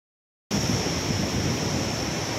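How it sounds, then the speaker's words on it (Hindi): Small canal in Lahore with water rushing steadily through a narrow channel, a continuous broadband roar like surf that starts abruptly and holds loud and even, with no talk. "ये इस जगह से ये छोटी नहर का पानी जा रहा है।"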